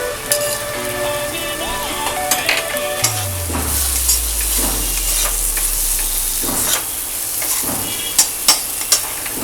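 Pure desi ghee sizzles in a pan for halwai-style aloo gobhi, with a steady frying hiss. A spoon or ladle clinks against the metal now and then, including a few sharp taps near the end.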